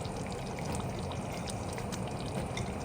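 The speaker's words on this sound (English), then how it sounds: "Now I'm adding my shiitake mushroom" Washed shiitake mushrooms tumble into a stew pot of eggplant stew with salty Koobi-infused oil, giving a steady wet, pouring rush with faint clicks and splashes, close and moderately loud throughout.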